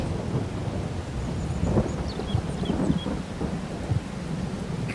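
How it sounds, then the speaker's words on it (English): Rainstorm with rolling thunder in the farming video game Farming Simulator 22, a loud continuous rumble and rain wash with low thunder swells and faint whistling wind tones, no speech. "Got a nice rainstorm here."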